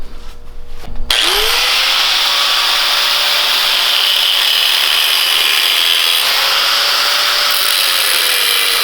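A power saw cuts a slit in a metal part for a 688cc V-twin engine repair, starting after a brief moment of handling and then running loud and steady for several seconds as the blade bites into the workpiece.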